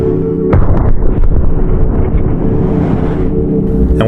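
A 16-pound sledgehammer slams into a polycarbonate plastic panel, one loud booming crack followed by a heavy rumbling, echoing tail, close and forceful, with no talking.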